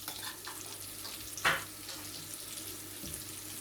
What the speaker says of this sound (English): You're going to fry them both sides until they look crispy